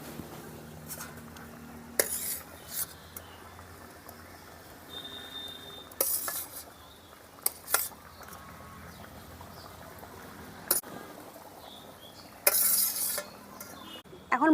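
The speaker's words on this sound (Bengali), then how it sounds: "ঝোল ফুটে গেছে, এখন আমি ভেজে রাখা মাছগুলো দিয়ে দেবো।" Pieces of fried rohu fish and eggplant drop into a simmering curry in a pan, giving a low bubbling hiss broken by several sharp clatters and splashes from utensils and pan.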